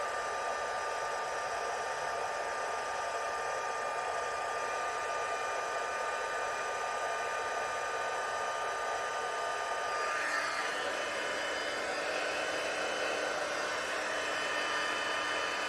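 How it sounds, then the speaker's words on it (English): A constant loud whooshing roar of a hot air tool blowing steadily, unchanging for the whole stretch, with no talking. "And now I'm going to heat tool this."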